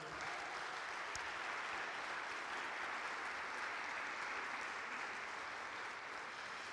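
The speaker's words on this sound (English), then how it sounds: "another round of applause for Sheila Maldonado and JoJo Abbott" Audience applause at Judson Memorial Church, a steady, even wash of many hands clapping, moderately distant and unbroken for the whole stretch.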